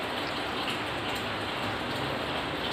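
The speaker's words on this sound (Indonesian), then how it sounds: "Di sini hujan." Steady rain falling outside, a dense even hiss of drops that holds at constant loudness throughout, with no voices.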